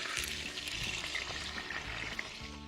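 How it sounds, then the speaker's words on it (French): Pork shoulder roast with onions simmering in a pan over low heat, a steady soft bubbling sizzle with faint crackles, close and even throughout, no talking. "on va laisser mijoter tranquillement et laisser cuire comme ça"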